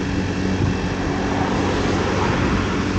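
A Honda Benly 50 business moped cruises steadily at about 30 km/h, its small engine droning continuously under heavy broadband road and wind rumble, loud and close throughout with no talking.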